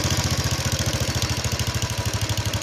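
A Royal Enfield motorcycle engine idles after carburettor tuning, a steady loud, close thumping beat running evenly throughout with no talk.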